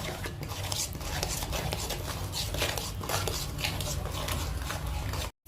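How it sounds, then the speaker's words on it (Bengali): A spoon mixes salt through a shahi malai paneer dish in a pan, a close, continuous scraping and rustling stir that cuts off abruptly. "এবার ভালো করে মিশিয়ে নেবে।"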